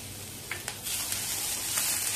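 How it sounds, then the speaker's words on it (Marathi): Onion and cashews fry in a pan while a vegetable kofta curry is cooked: a steady sizzle with a few sharp spatters and stirring clicks, close and moderately loud, with no talking. "कांदा हलकासा लालसर सोनेरी असा भाजायला लागलेला आहे। आता आपण त्याच्यामध्ये काजू घालूया।"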